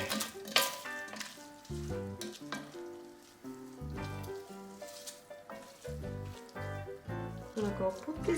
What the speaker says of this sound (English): Let's give a good stir.